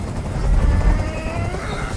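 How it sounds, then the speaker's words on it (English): A helicopter hovers overhead in a video game, a dense rumbling rotor roar that swells and fades slightly over two seconds, heard alone without talk. "I can't stand that noise anymore! Tell that helicopter to get out of here!"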